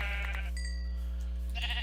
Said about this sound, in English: Here's a few more sheep.